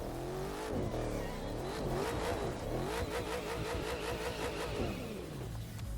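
Maserati GranTurismo in The Crew 2 racing game, its engine revving up and down in smooth rising and falling sweeps as it drives off, a steady mid-pitched drone that is fairly quiet.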